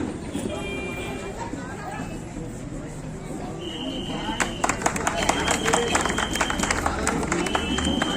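Audience clapping builds into a dense burst of applause for the chief guest at an outdoor unveiling ceremony for a freedom fighter square and a Bharat Mata statue, with crowd noise and a loud voice over it.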